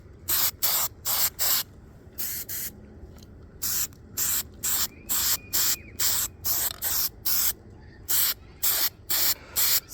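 Spray adhesive hissing onto a captain chair armrest outdoors in repeated short bursts, each about a quarter second, in rapid irregular groups, loud and close with no talking.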